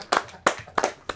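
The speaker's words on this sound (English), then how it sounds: "Clap for me now" A few sharp hand claps ring out close by, four quick separate smacks with short gaps between them and no talk.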